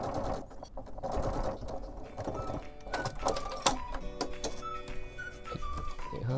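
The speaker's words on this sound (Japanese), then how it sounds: "また押さえを下ろして、で引き続き残りを縫っていきます。" A home sewing machine stitches a zipper seam in a hobby project, a close, steady mechanical whirr that briefly pauses and restarts, with faint high whistling tones over it.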